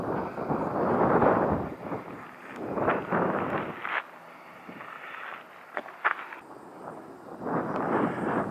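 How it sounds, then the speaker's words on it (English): Strong gusts roar across a hilltop beside old windmills on the Greek island of Patmos, swelling and fading in loud waves that buffet the microphone. "It is always very, very windy up here."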